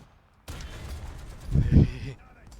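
A burst of gunfire in a combat video game breaks in suddenly after near-silence, with a couple of heavier, booming shots near the end before the noise cuts off, loud and close.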